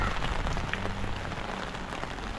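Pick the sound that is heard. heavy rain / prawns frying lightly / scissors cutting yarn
heavy rain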